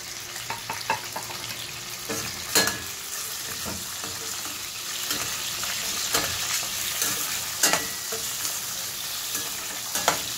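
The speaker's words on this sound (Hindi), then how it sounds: "दो तीन मिनट के लिए अच्छे से फ्राई कर लेंगे हम इनको।" Carrot and capsicum fry in a pan for a vegetable korma, a steady sizzle under occasional scrapes and clinks of a spoon stirring, with no one talking.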